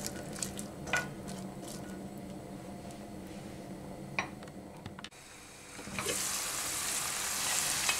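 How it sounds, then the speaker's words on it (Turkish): Onions sautéing in a pan, a close, steady sizzle with soft clicks and scrapes from stirring, then swelling into a louder, brighter hiss toward the end, with no voices. "Biraz soteleyeceğim soğanımı."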